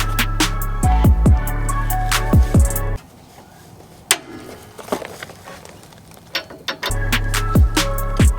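Breaker bar working loose the bolts on a lowered car, giving a run of sharp metallic clicks and ratcheting snaps in quick bursts, close and loud, with a quieter stretch of scattered clunks between them.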